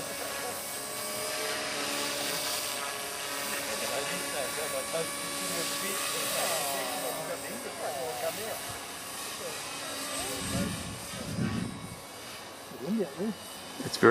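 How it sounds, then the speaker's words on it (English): A small TRex 250 RC helicopter flies in rough, windy conditions, its steady high rotor and motor whine holding throughout, with excited voices and outdoor noise near the end. "Perfect for conditions for a little helicopter like this."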